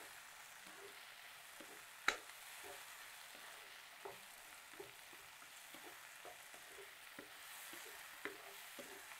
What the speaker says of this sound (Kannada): ಟೊಮೊಟೊ, ಈರುಳ್ಳಿ, ಬೆಳ್ಳುಳ್ಳಿ ಚೆನ್ನಾಗಿ ಫ್ರೈ ಆಗ್ತಾ ಇದೆ